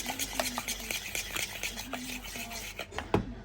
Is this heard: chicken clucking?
no